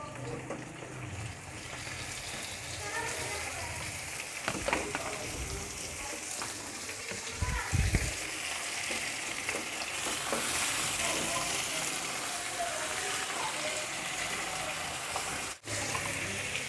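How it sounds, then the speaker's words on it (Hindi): Onion and chicken frying in a pan for an achari chicken dish, a steady, dense sizzle and crackle close by, with brief stirring clatters and scrapes along the way. "अनियन फ्राई हो रहा है"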